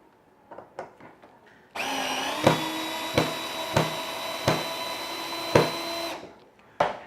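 A cordless screwdriver drill with its clutch set to 15 drives a screw into wood. A steady, loud motor whir runs for about four seconds, punctuated by repeated knocking thuds, with lighter taps before and after it.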